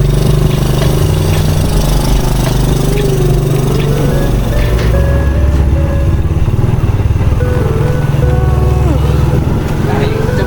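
A loud motorcycle engine rumbles steadily nearby at Kampung Salang on Tioman Island, its low throbbing pitch rising and falling, while people talk over it.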